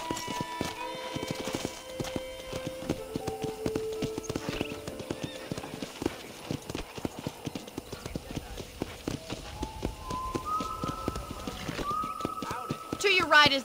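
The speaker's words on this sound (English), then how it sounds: "let's see if you can still ride a horse" Horse hooves clip-clop in a rapid galloping rhythm in the video game Red Dead Redemption, with occasional neighs and whinnies, while game characters talk over the riding and music plays underneath.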